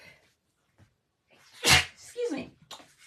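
A single loud, forceful human sneeze bursts out at close range after a short quiet lead-in, followed by brief breathy aftersounds and small noises.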